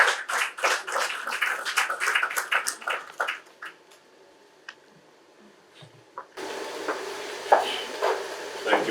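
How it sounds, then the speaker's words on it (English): Audience applause at a launch event in a Nairobi hotel comes as a burst of crisp claps that thins out after a few seconds into scattered taps, followed by quieter room noise. "Let's give a round of applause for him."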